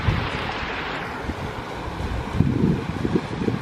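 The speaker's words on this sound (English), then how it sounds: "Just the sound, like right now I'm like next to the river" A river flows beside a countryside spot in Japan, making a steady, loud rushing wash with wind buffeting the microphone. No one speaks.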